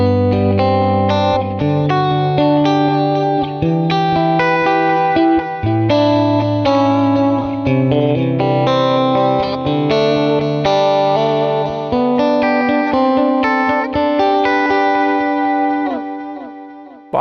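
Electric guitar run through a Boss delay pedal, playing sustained chords and melodic lines with echoing repeats and effects, loud and continuous, fading out at the end.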